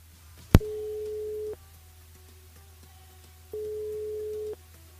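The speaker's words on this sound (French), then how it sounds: "On appelle Cynthia sur le standard" A phone call placed to a radio listener starts with a sharp click. Two steady ringback tones follow, each lasting about a second, with a long pause between them, clear against a quiet line.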